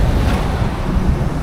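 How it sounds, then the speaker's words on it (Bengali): Cold wind blows hard across a mountain road in Kashmir, a steady, loud, blustery rush with low rumbling buffets and no voices. "আর ঠান্ডা হাওয়া দিচ্ছে বাম্পার"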